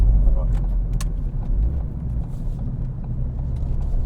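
A Ford Fiesta ST mk7 growls while being driven, a dense, rumbling engine and road roar heard from inside the car that stays steady throughout, with a few faint clicks on top.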